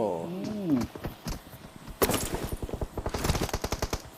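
Rapid automatic gunfire in a PUBG Mobile match rattles off in quick bursts after a voice briefly speaks, the shots loud and tightly spaced.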